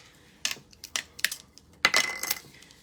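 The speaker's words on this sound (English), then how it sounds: "All right, and then I use my scissors." A few crisp snips from scissors, spaced irregularly, ending in a longer cutting stroke; close and clear with no talking.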